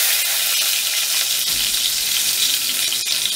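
Whole cumin seeds and two thin bay leaves crackle in hot oil for a Bengali elephant foot yam and prawn gravy, a dense, continuous hiss with small pops that stays close and even throughout.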